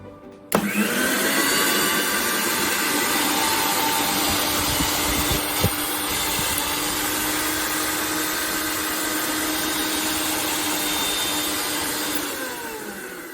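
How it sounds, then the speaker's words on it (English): A repaired kitchen mixer switches on with a click and runs as a loud, steady motor whine for about twelve seconds before winding down, close and alone. "So the mixer is working fine, just like original."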